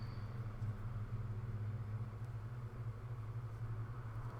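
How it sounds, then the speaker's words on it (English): Road traffic outside rumbles as a low, steady, faint drone of passing car engines, continuous and distant with no voices. "It's a loud traffic day"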